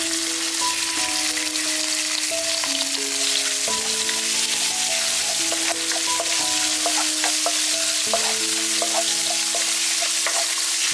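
Pork fat sizzles and crackles steadily in a hot wok as it is stir-fried, a dense continuous frying hiss with occasional spatula scrapes, close and loud throughout with no talking.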